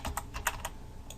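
A password being typed on a computer keyboard, a quick burst of about six or seven light key clicks in close succession, soft and near, with no voices.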